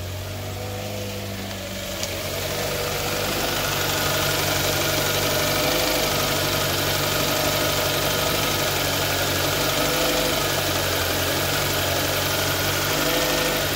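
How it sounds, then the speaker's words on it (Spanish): A 2.4-liter Kia Sportage from the 2011–2016 years idles with a steady, even mid-range hum that settles in after a brief quieter start, then holds constant at close range with no talk. "Está parejito el motor."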